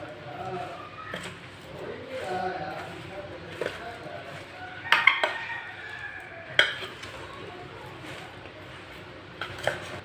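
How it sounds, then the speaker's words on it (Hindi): Spices for mango pickle, including turmeric powder and kalonji, stirred together in a utensil with soft scraping and occasional metal clinks, while a voice talks over it. "अच्छी तरह मसालों को ना मिक्स कर लेंगे।"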